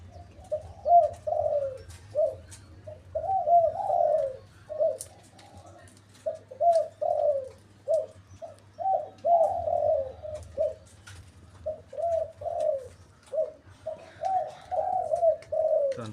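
A trained decoy dove coos repeatedly in short rhythmic phrases, fairly close and steady, with brief pauses between bursts and a low hum running underneath throughout.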